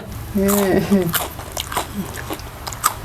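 Someone crunches on crisp jowar chakli seasoned with homemade onion-garlic masala and sesame, giving close, brittle bites and chewing while voices talk over it.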